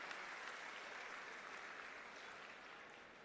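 Applause from staff at a Delhi MCD engineering gathering, a steady, fairly faint wash of clapping that fills the whole stretch and tapers slightly toward the end, with no talk over it.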